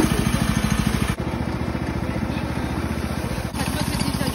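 A gas-powered engine drives a log sawmill, running steadily with a fast, even chugging pulse that stays loud and close throughout, with brief dips in intensity.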